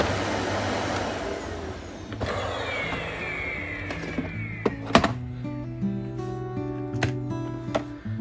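A Bosch vacuum cleaner with an intake filter fault drones steadily, then winds down as clunks and mechanical whirs follow, with tonal hums lingering near the end.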